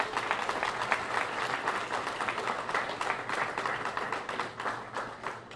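A crowd at a Safeway supermarket grand opening in Petworth applauds the store staff, a dense, sustained wash of clapping hands that holds steady for several seconds without talk.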